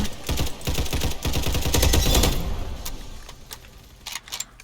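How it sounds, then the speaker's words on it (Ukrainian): Rapid automatic gunfire in a Roblox shooting game: a dense, loud burst of quick repeated shots for about two seconds, then trailing off into scattered single shots and clatter. "Типа мені стріляють, я стріляю по-іншому."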